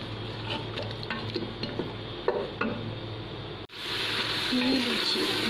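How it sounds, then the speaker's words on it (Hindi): Masala frying with yogurt in a pan gives a close sizzle broken by stirring scrapes. The pan drops out abruptly, and a louder, steady hiss takes over after the yogurt goes in. "ये दही मैं डाल देती हूँ। जो है मैं अच्छे से भून लेती हूँ फिर से।"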